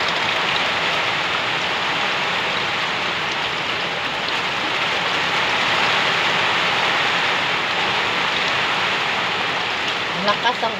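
Heavy rain pours steadily, a dense, unbroken hiss of water drumming on surfaces close by, with a few louder drips near the end.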